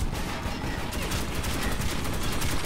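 Turret gunfire in Metro 2033 comes as a dense, rapid, continuous stream of shots, loud and sustained with no break.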